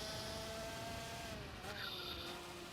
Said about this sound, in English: Full on acceleration to the first corner.